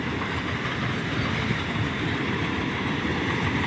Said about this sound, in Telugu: గ్యాస్ ట్రైన్ ఇది, ఆయిల్ ట్రైన్, పెట్రోల్ ట్రైన్.